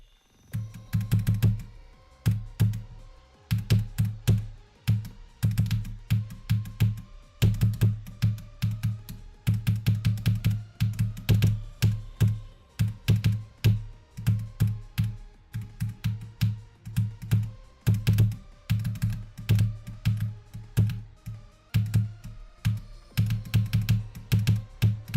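A computer keyboard tilted on its wrist rest is typed on in quick, close bursts of clacking keystrokes with brief pauses between flurries, loud and clear with no talk.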